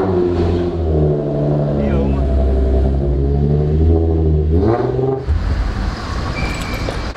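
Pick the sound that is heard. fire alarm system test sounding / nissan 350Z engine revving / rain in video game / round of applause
nissan 350Z engine revving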